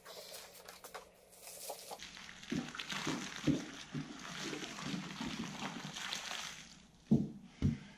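Hot water splashes and gurgles as it is poured outdoors into bag pots on a cold day, a soft continuous pour with a few louder sloshing splashes.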